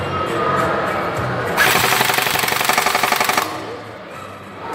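An airsoft gun fires a rapid burst of closely spaced, clattering shots lasting about two seconds. Quieter background sound comes before and after the burst.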